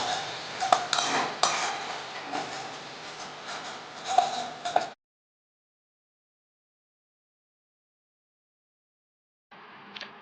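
A metal spoon scrapes and clinks against a pan while chili powder and garam masala are stirred and fried, close and uneven for about five seconds, then silence, with a brief return of faint kitchen noise near the end.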